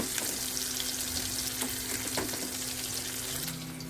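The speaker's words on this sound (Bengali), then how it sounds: "একটু হালকা ভেজে তুলে রাখবো" Koi fish fries lightly in hot oil in a pan, giving a steady, close crackling sizzle with faint scattered pops, easing slightly near the end.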